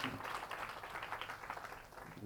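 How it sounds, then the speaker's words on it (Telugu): A congregation at a church thanksgiving service, celebrating a couple's silver jubilee anniversary, claps together in dense, continuous applause that sounds soft and somewhat distant throughout. "అందరూ చప్పట్లు కొట్టండి, దేవుడి స్తోత్రం"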